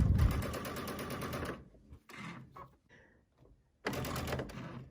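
A sewing machine with a walking foot stitches a quilt in fast, even running bursts at the start and end, with handling and fabric shuffling in the quiet gap between, close and without talk.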